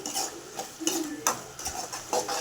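A spoon stirs gobi manchurian with sauces and a pinch of salt in a pan, giving a few short scraping and clinking strokes at close range, with faint sizzling between them.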